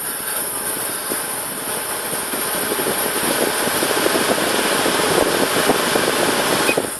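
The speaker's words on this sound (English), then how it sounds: "The AC blower motor you might not be able to feel, but you can certainly hear." A loud, steady whooshing drone from the air-conditioning blower motor of a Land Rover Discovery 2 4.0 V8, with a rough rumbling texture that builds slightly over time, no voices.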